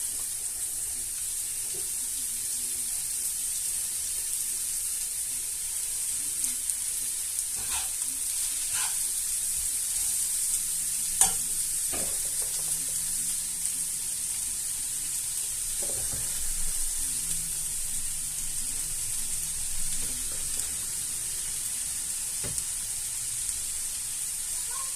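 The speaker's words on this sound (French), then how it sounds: "On remue bien, comme ça les épinards vont vite fondre." Spinach leaves being added to onions that have been sweating in a pan, with a steady close sizzle and scattered scraping knocks from stirring.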